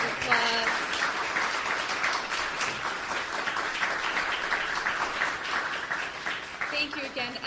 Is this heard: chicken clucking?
no